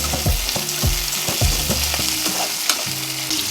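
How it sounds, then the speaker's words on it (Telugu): Green chillies and tomato pieces frying in a pan for Maggi noodles, a loud close sizzle with repeated scraping knocks of a spoon stirring in an uneven rhythm, no voices. "పచ్చిమిరకాయలు వేసుకుందాం, బాగా వేయించుకుందాం."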